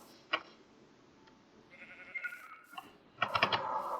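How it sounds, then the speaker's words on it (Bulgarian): Sheep bleating in the Minecraft video game, a few short distinct bleats clustered near the end, with brief game clicks and faint background sounds earlier and no speech. "Ето и овцата, ето и овцата."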